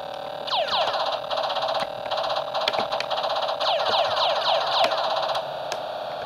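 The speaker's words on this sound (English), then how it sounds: "when you hear that sound, it means your plane's taking damage" A warbling electronic alarm tone from the Atari Lynx game Warbirds, signalling plane damage, repeats in rapid descending sweeps, loud and continuous, with no talking.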